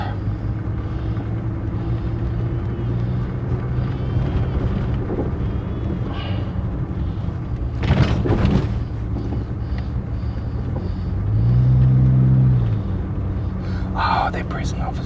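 A 1966 Humber Super Snipe with an automatic three-speed Borg-Warner Type 35 gearbox drives along, its engine a steady low rumble under ongoing conversation, with a brief rise in revs near the end.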